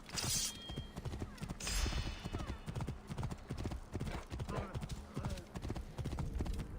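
Horse hooves clip-clop in a fast, rhythmic gallop in the video game Assassin's Creed Origins, a steady beat of sharp hoof strikes with a voice speaking over it.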